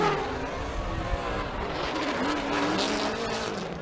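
Formula Drift cars sliding through a chicane in Seattle, a steady roar of engines with squealing tires and a rising, bending engine note, heard from a distance.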